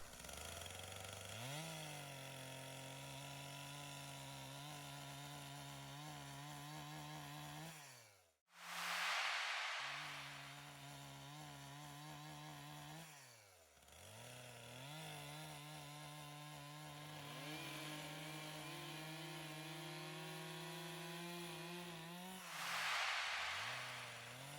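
A chainsaw cutting a log for log home building in smaller passes, its engine droning loud and steady, briefly dropping to idle twice before revving back into the cut.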